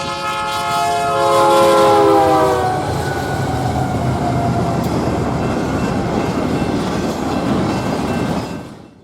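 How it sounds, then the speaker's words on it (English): BNSF 5121, a Z train, speeding through Minneola at 75 mph on the Southern Transcon: a loud horn blast up close at the start, then a sustained roar and rumble of passing railcars that cuts off at the end. "Here we see BNSF 5121, a Z train heading through Minneola."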